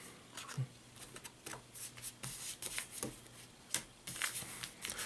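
Playing cards from the Dragonfire deckbuilding game being shuffled by hand, with a quiet, close series of irregular riffles, slides and taps at low level and no speech.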